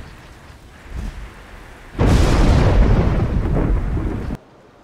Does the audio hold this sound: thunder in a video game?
yes